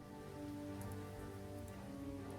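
Rain falls in the video game Lost Horizon, a soft, even patter over a low steady hum of game ambience, faint and continuous, with no voices.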